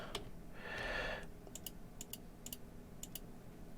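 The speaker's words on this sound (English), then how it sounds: "Oh god, I've got to use my keyboard here." Faint computer keyboard typing, a few light key taps in small pairs spaced about half a second apart, following a brief burst of other game sound over a low background hum.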